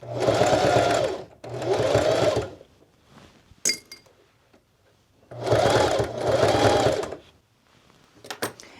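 A sewing machine stitches a clothing repair in two pairs of steady, loud whirring bursts, with brief clinks and quiet handling in the pauses between them.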